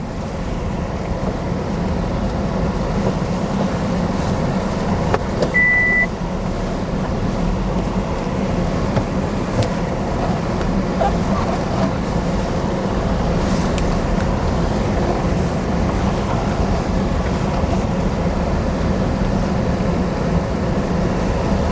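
A car slowly maneuvering and reversing to test its turning radius, heard as a steady, continuous engine and road rumble with wind noise throughout, no distinct events standing out.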